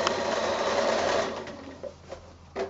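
A sewing machine stitches quilt binding in a steady whirring run that slows and stops, followed by a few short bursts for a back stitch, close and alone.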